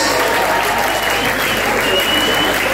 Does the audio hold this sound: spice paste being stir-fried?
no